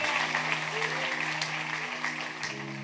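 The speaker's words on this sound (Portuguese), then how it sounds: "Aplaudam ao Senhor" Church congregation applauding during a Portuguese-language sermon, a steady wash of clapping filling the room for a few seconds, with low sustained hum beneath and some voices mixed in.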